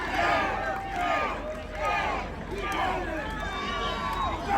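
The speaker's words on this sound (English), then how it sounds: "He's got fellow competitors cheering him on." Fellow competitors at a men's steinholding championship in Pennsylvania cheer on a stein holder, a crowd voicing rising chants in waves over a steady background murmur, moderately loud, with speech mixed through it.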